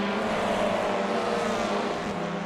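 TCR touring cars in the iRacing sim run through the banked concrete Carousel at the Nürburgring, giving a continuous loud engine drone with a rough, rumbling texture from the surface, and no one talking.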